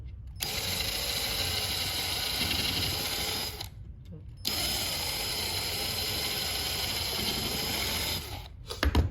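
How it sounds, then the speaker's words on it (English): A power drill whirs steadily at high speed into wood for a step stool, pausing briefly once before running again, then stopping with a few clicks. "Drill."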